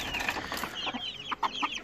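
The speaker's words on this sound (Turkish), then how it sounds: "bu kümesimizde de gurk tavuk, ispeç gurk tavuğumuzun civcivleriyle olan bir kümesimiz" A broody Gurk (ispeç Gurk) hen clucks softly in a coop while her chicks peep in high, quick chirps close by.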